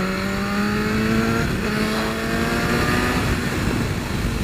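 A BMW S1000RR sport motorcycle engine revs and climbs in pitch on a road in Hawaii, rising harmonic tones sweeping upward over steady road and wind roar, close and continuous.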